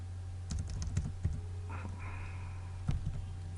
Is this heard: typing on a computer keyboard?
yes